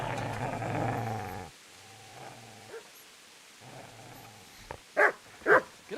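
A dog in a video game growls low and rumbling, pauses, growls again more quietly, then gives two sharp yips or barks near the end.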